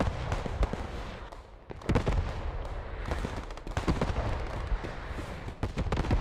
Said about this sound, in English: More artillery caught on point.